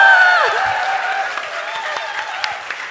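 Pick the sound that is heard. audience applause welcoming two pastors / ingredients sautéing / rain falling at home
audience applause welcoming two pastors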